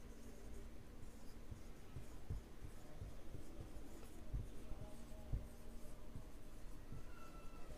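A pen writes the subject line of a letter by hand on paper, making faint, close scratching strokes with light taps, quiet and steady with no talk.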